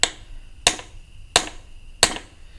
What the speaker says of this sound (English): So just get your little hammer here and just kind of tap it in there.